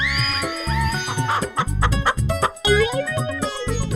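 A rooster clucks and squawks repeatedly, loud and close, in a rapid run of choppy calls.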